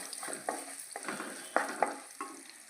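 Garlic and onion fry in a pan with a soft, steady sizzle, broken by several sharp scrapes and taps as a spoon stirs them.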